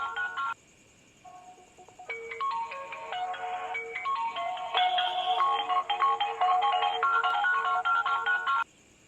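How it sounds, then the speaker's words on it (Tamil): A mobile phone ringtone for an incoming call plays loud and close: a bright synthetic melody of repeating tones that starts, stops briefly, then resumes and runs steadily for several seconds before cutting off. "மறுபடியும் ஃபோன் வந்துச்சு."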